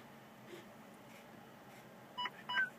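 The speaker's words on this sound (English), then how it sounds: "clicking on until we hear 2 beeps" Two short electronic beeps near the end, the second slightly longer, over a low steady hum inside a truck cab in neutral.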